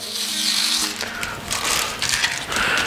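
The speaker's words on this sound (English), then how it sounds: "we can go ahead and peel off that protective film on the top rail" Protective plastic film being peeled off the top rail of a stair railing, a steady crackling, tearing rasp lasting the whole stretch, loud and close with a few brief surges.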